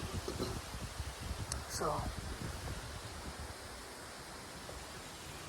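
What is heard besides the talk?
wind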